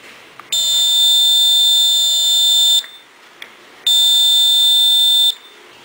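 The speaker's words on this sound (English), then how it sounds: "you'll see the LED goes on and the buzzer will start beeping" Two long, steady electronic buzzer tones from a water level indicator kit, the first about two seconds and the second about one and a half, separated by a short gap. Loud and close, with nothing else underneath.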